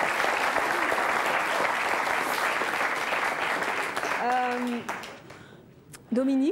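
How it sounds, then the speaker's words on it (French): Audience applause on a French television talk show, a loud, dense burst of clapping that fades away near the end as voices come in and speak. "On peut l'applaudir, oui."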